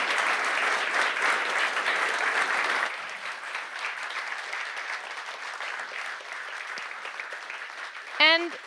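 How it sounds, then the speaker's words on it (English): An audience at a cultural criticism event applauds a speaker, moderately loud clapping for about three seconds that then thins to a softer scattered patter, with a short rising tonal sound near the end. "a large applause for Jacob Gelle"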